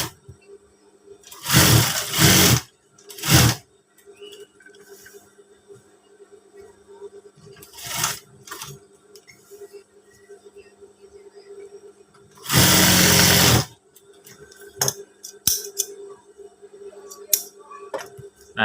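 A sewing machine stitches the slit of a batik garment in short, loud bursts of whirring separated by quiet pauses, with one longer run near the end.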